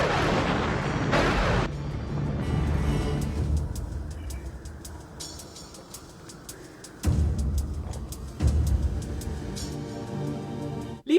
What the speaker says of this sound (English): Allowing Red to set off the Dimension Fusion Bomb.